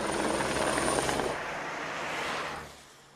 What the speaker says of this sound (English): It wasn't entirely coincidence the helicopter had been overhead.